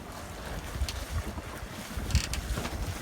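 Small boat motoring along under way, a steady low engine drone mixed with wind buffeting the microphone and water rushing past the hull, continuous and fairly close, no voices.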